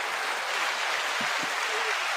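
An audience applauds in a steady, dense wash of clapping that holds at an even level throughout, with no voices standing out.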